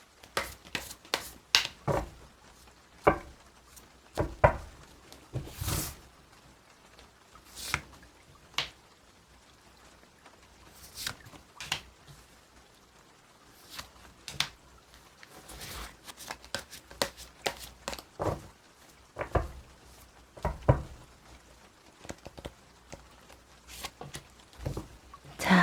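Tarot cards being shuffled and drawn, a steady run of quick papery riffles and soft slaps close by, with brief pauses between bursts and no talking.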